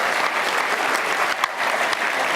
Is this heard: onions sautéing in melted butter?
no